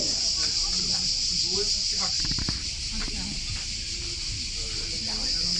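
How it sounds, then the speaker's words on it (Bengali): A loud, steady chorus of crickets fills the air around an outdoor restaurant row in Croatia, a continuous high shrill drone with faint background voices and occasional clatter underneath. "চারিদিকে শুধু ঝিঝি পোকার ডাক এত জোরে জোরে ঝিঝি পোকা ডাকছিল"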